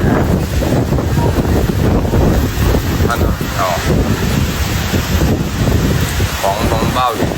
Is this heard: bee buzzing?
no